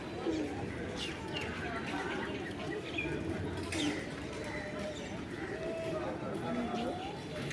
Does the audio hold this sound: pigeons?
yes